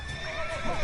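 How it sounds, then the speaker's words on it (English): Horse neighing in the video game The Witcher 3, a short whinny with a wavering pitched cry over faint background noise. "Get off the horse, Geralt."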